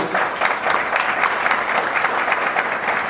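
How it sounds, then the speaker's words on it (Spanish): A church congregation claps warmly in a steady, fairly loud burst of applause, with no talking over it. "Vamos a recibirle con un cariñoso aplauso."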